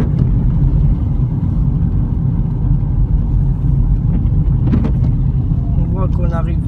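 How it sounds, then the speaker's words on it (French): A car slowing and shifting down through the gears while driving, heard as a steady low engine rumble and road drone from inside the cabin, with a voice talking over it. "donc on ralentit, on rétrograde, on remet sa troisième, on rétrograde normalement."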